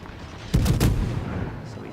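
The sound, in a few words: naval gun salvo from warships in World of Warships video game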